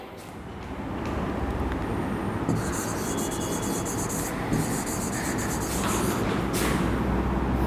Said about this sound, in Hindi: तो लिखेंगे